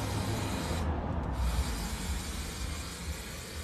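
Spray glue is applied onto the bed of an English 8-ball pool table during reclothing, making a continuous close, loud broadband hiss that holds steady from start to finish.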